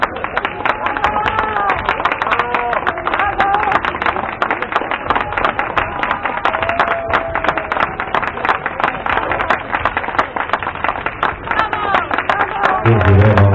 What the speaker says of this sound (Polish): Drodzy Państwo, wielkie, wielkie brawa, ostatni zawodnik.